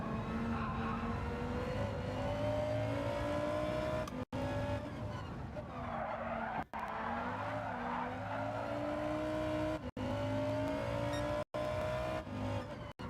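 A Gr.B rally race car in Gran Turismo 7 screams continuously at high revs, its engine note rising and falling through gear changes with tire squeal mixed in, loud and close over the whole stretch with brief dropouts.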